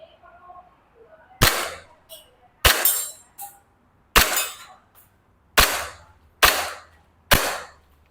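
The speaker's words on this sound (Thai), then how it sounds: "ผมขออนุญาตลองอีกประมาณสัก4ี่ห้านัดนะครับ กับเป้า10เซนนะครับระยะ 15 เมตรนะครับผม" An E&C Glock 19X BB pistol fires six sharp, snappy shots at a 10 cm target 15 metres away, spaced about a second apart, each with a brief metallic ring, with a faint voice early on.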